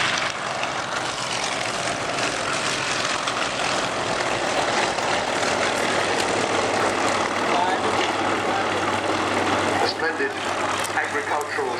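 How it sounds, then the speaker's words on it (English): Yak-50 propeller aircraft engines drone loudly and steadily at an airshow, a rough, throbbing roar that holds level for the whole stretch. "Agricultural sounds of those very reliable, simple engines"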